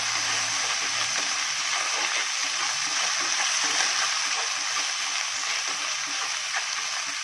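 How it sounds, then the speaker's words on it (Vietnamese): Tilapia fish frying in hot oil while being stirred, a steady, loud sizzle and crackle running throughout, with occasional soft scraping from stirring. "chúng ta rửa cá cho thêm dầu vào đây nhé, và đảo cá cho nó vàng lên nhé"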